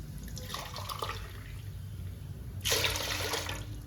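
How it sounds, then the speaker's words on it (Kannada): Water is poured from a cup onto ration rice in a vessel while making akki sandige. A faint trickle is followed by a louder, steady splashing gush near the end, close by and with no talking. "ಅದರಲ್ಲಿ ಈಗ 4 ಲೋಟ ನೀರು ಹಾಕ್ತೀನಿ."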